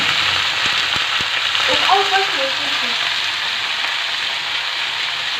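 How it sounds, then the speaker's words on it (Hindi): Cauliflower fries in a pan with a loud, steady, close sizzle, joined by a few sharp clicks and a brief faint tonal sound near the middle. "यहाँ गोभी फ्राई हो रहा है"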